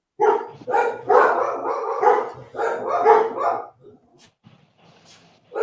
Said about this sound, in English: I got dogs barking at people.